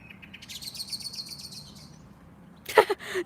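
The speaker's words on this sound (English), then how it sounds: "That bird just scared the rat." A bird gives a rapid series of chirps, then a sharp, loud screech burst near the end against a quiet hiss of insects and outdoor ambience.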